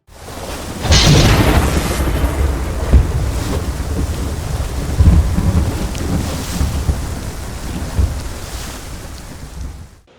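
Thunderstorm with heavy rain at sea in World of Warships: a loud thunderclap opens, followed by a steady wash of rain and surf with further low rumbles rolling through, no voices.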